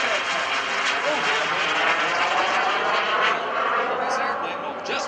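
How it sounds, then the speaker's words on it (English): A BD Microjet Commander flying at the 2013 New Garden Airshow gives a steady jet engine roar that holds loud and continuous, as if passing fairly close, with no gaps. "Justin Lewis, call sign Shmed, the BD Microjet Commander, which is the last microjet."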